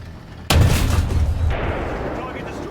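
A single heavy gunshot in a video game, fired toward the player, lands as one sudden loud boom followed by a long rumbling decay over steady background noise.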